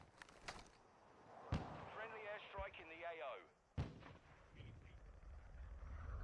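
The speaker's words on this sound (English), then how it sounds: "Friendly airstrike in the AO." Friendly airstrike explosions in a Call of Duty Warzone 2.0 match land as a few sharp, heavy booms, with a voice talking in between.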